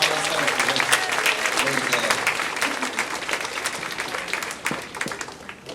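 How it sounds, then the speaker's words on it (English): Dense, sustained applause from an audience at a sixth grade school band concert, loud and continuous, with a few voices and cheers mixed in as it gradually thins. "All right, give yourself a big round of applause."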